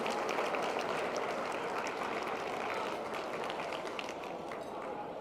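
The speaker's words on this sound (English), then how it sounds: "Will you please give them a huge round of applause" Gala guests give the event sponsors a huge round of applause, a dense, steady roar of many hands clapping that fills the room, slowly thinning slightly toward the end.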